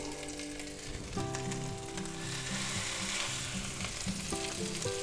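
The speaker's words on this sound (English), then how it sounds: "And we'll fry them up." Parmesan-crusted pork chops sizzle steadily in a hot frying pan, a loud continuous frying hiss with occasional shifts as the chops settle, no voices over it.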